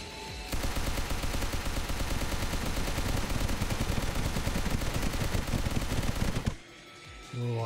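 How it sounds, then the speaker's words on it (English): Rapid, sustained aircraft machine-gun fire from a strafing run in the flight combat game Sky Rogue, a loud continuous burst lasting about six seconds before cutting off abruptly, followed by a quieter engine-like drone. "A little strafing run there with my machine guns."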